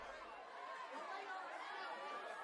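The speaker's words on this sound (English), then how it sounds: "We've got this crowd atmosphere." A faint crowd chatter atmosphere, layered as a background sample in a music arrangement, forms a continuous indistinct murmur of many voices with no clear words.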